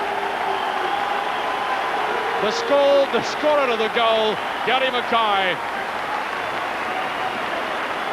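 Football supporters at Tynecastle for a Hearts v Clydebank match, giving sustained applause that forms a broad, steady roar from a large crowd, with a commentator talking over it.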